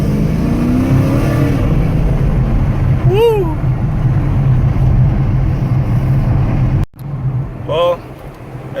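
A car fitted with new JBA longtube headers and a midpipe drones with a loud, steady engine rumble and road noise from inside the cabin, then revs briefly near the end while a person whoops and talks over it.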